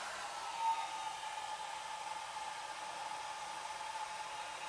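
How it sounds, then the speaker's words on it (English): Hair dryer running on its low, warm setting to dry alcohol ink on a tile, a steady even whoosh of blowing air held at constant loudness throughout. "And I'm putting it on the low setting, warm."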